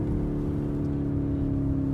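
A 2019 Lamborghini Urus engine running with a steady low, droning hum close by, no voices over it.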